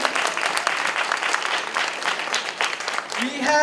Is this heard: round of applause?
yes